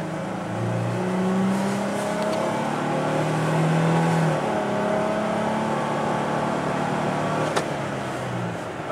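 Car accelerating steadily toward 80 on a road, a sustained engine drone with rising tonal whine over continuous tire and wind noise, heard from inside the cabin.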